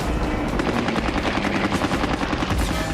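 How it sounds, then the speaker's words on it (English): Anti-aircraft guns on the battleship Yamato fire at attacking aircraft. The rapid bursts are loud and close, and the repeated shots run together into a sustained rattle with no talking. "The new anti-aircraft guns do what they can"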